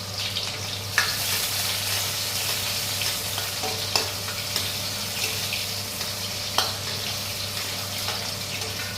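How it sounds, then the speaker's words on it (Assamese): Onions frying in oil with panch phoron, a steady close sizzle and crackle with occasional stirring clinks and scrapes of a spoon against the pan, no voices. "পিঁয়াজ দি ধুনীয়াকৈ পিঁয়াজখিনি অকণমান ৰঙচুৱা হোৱালৈকে ভাজি ল'ম।"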